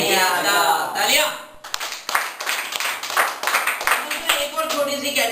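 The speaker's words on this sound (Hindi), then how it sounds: "तालियां" Quick bursts of hand clapping from a small group in a classroom-style Windows computer lesson, irregular and fairly close, with a voice talking over it at the start.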